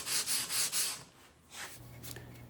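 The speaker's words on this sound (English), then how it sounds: "And then go ahead and sand it on your final piece." A wooden piece is rubbed with 80 grit sandpaper in quick back-and-forth strokes, close and scratchy, about four rhythmic passes followed by softer, slower rubs, with no talking.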